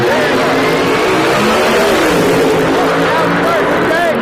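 Alcohol funny cars revving and launching at a 1986 drag race shootout in Texas, a loud continuous engine roar with rising and falling pitch that fills the whole stretch, with crowd and announcer noise mixed underneath.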